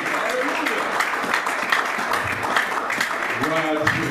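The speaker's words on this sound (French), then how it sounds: "Nous acclamons pour la parole de Dieu" A church congregation applauds in continuous clapping, with a voice speaking over it and cheers or calls rising briefly near the end.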